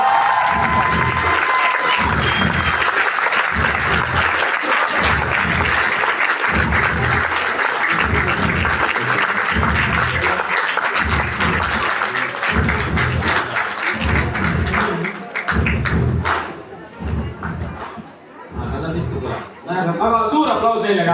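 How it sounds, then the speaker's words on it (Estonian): School playback show awards ceremony in Põlva, Estonia, where an indoor audience gives the audience favourite winners a long burst of rhythmic, rowdy clapping with some cheering, which tapers off to scattered claps and chatter. "Aga suur aplaus neile ka!"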